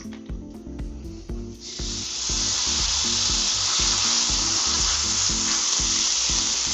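Loud, steady sizzling of steak searing in hot oil on a griddle, a bright continuous hiss that swells after a moment, with a faint rhythmic knocking underneath.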